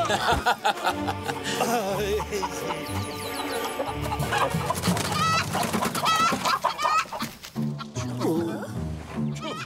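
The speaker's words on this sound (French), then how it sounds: "Cochonnerie de poulet." A chicken clucks amid a busy, loud dramatic soundtrack of music and shouting in an animated Zorro adventure scene.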